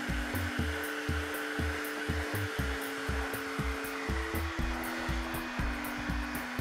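A hair dryer blows steadily while styling a classic graduated bob with a brush, its airflow cutting in and out in short rhythmic bursts as the brush moves through the hair.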